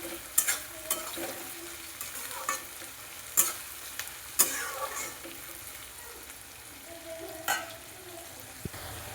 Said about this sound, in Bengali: এখন একটু পেঁয়াজটা নাড়াচাড়া করে দিচ্ছি